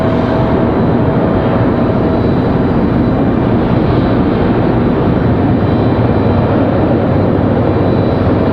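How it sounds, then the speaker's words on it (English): Boeing 777 jets depart together from Raleigh-Durham International, producing a loud, continuous, broadband jet engine roar that holds steady throughout with no voices. "Hopefully we'll get a nice 777 back-to-back departure."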